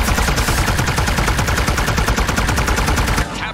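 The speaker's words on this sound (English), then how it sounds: "It just keeps fucking firing." A weapon in Paladins fires continuously, a loud rapid rattle of evenly spaced shots that runs without pause for several seconds before cutting off abruptly.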